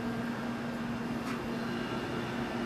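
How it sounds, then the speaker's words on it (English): Air conditioner running in a room, a steady broadband hum with a constant low tonal drone, even and continuous throughout at moderate level with no speech. "I know you guys can hear my air conditioner in the background"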